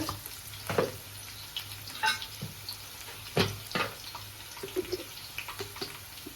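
Ridge gourd curry stirred in a frying pan: soft sizzling with intermittent scraping strokes of a spoon, a few sharper knocks, and faint running water in the background.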